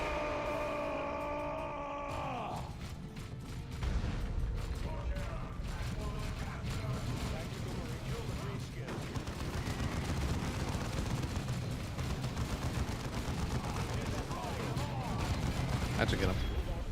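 Real-time strategy combat in Dawn of War 2 as a grenade goes off: after a brief musical opening, a dense, steady barrage of explosive blasts and gunfire fills the rest, with game voices talking over the battle.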